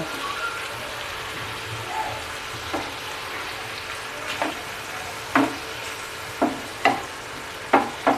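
Onions, tomatoes and beetroot sauté in hot oil for street-style tava bhaji, a steady soft sizzle with a few sharp scraping stirs growing more frequent toward the end.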